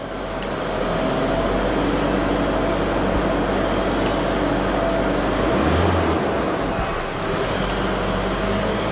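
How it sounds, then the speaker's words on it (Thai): An Isuzu Mu7 diesel engine revving after a fuel filter change, a loud steady rumbling drone with a rising whine and brief pitch swells, heard up close without talk. "เบิ้ลเบิ้ลเครื่องไล่ไล่กันหน่อย"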